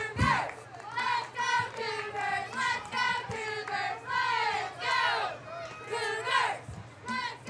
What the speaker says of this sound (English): you can really hear all of the cheer crowd